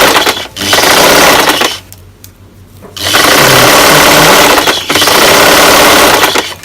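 Sewing machine stitching a half-inch seam in black T-shirt fabric for a dress, loud steady whirring runs in three bursts, with a short pause of near silence between the first and second.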